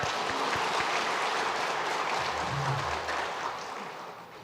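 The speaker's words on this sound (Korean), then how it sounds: "잠깐 자리에서 일어나시면 우리 큰 박수로 환영하겠습니다" Church congregation applause during a Sunday worship service welcoming new members, with a dense, sustained wash of clapping that fills the hall and tapers slightly toward the end.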